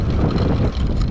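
Steady wind roaring across the microphone on a sunny, windy day, a dense continuous rumble and rush that stays loud throughout with no voices.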